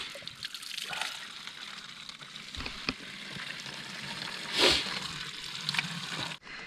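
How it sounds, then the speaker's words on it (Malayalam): Cold spring water falls from a pipe in a rainforest, a faint, steady trickle and splatter with a brief louder gush midway. "ആ മേലെ ഉറവയെന്ന് പൈപ്പിൽ ഇങ്ങനെ വെള്ളം വീഴുന്നുണ്ട്"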